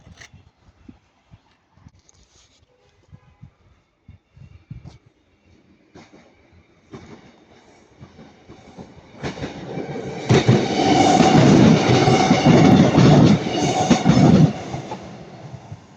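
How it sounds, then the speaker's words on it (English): Class 150 diesel multiple units passing at Ardwick on the Buxton line, rising from faint rail clicks to a loud, sustained rumble and clatter of the train going by close, then easing at the end. "there goes 150 142 and 104 going to Buxton"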